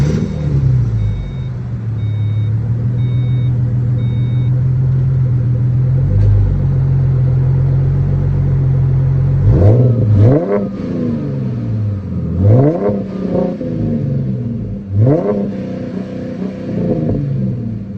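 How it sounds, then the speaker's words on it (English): Project car exhaust revving while parked: a steady idle rumble for about nine seconds, then several loud, sharp rev bursts rising and falling at regular intervals, close up with no talk. "So that's what the exhaust sounds like."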